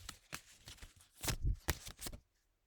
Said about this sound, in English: Let's see where the card that stands out is.